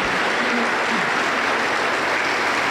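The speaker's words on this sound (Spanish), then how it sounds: "Y las recibimos con fuertes aplausos para el Señor Jesús." A church congregation at Iglesia Pentecostal La Cosecha applauds a youth choir of young sisters, a loud, dense, sustained wash of clapping that fills the space without a break.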